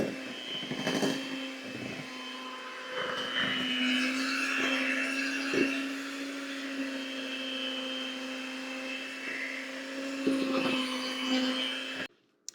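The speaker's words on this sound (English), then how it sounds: "all you need is a hand mixer, an electric hand mixer" An electric hand mixer whirs steadily through cake batter with a constant motor whine, close and fairly loud, with small clicks and knocks of the beaters against the bowl before it cuts off at the end.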